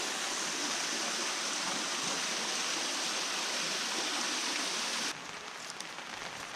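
Water pours steadily into a pool below a temple at a waterfall, making a dense, hissing rush that is close and loud, then drops slightly quieter near the end, with no voices.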